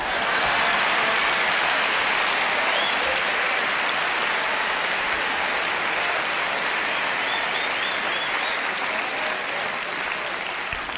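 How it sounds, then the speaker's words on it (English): Sustained applause from a live audience after a magic square trick by a magician, loud and dense throughout, steady with no voices over it. "now you can clap"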